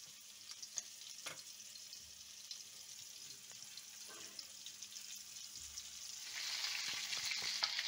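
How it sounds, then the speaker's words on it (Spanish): Chicken pieces brown in hot frying oil with a faint, steady sizzle, occasional soft clinks and stirring, the frying growing louder and brighter near the end. "Ahora vamos a dorar el pollo y lo pondremos en la olla."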